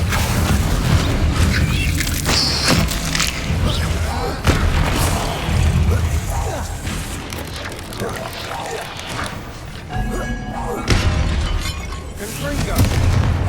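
Confringo and Bombarda spell explosions in the video game Hogwarts Legacy, loud repeated booming blasts and bursts over a dense battle soundscape, with a voice shouting spell incantations among them.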